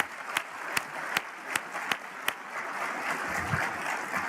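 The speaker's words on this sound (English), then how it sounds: "let's give them one more round of applause" An audience at a closing general session applauds, a fairly faint, even wash of clapping in a large hall with a few sharp individual claps standing out early on.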